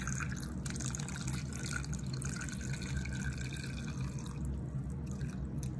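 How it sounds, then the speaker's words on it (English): Water pours steadily into a rock tumbler barrel, a continuous close splashing and trickling fill that runs without pause and without talk. "I am now going to fill it with water."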